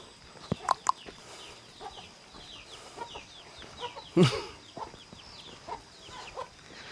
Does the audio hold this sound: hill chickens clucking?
yes